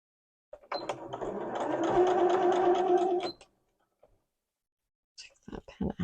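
A sewing machine stitches a dress sleeve in one steady whirring run of about three seconds, close and clear, then falls silent before a few light handling clicks and rustles.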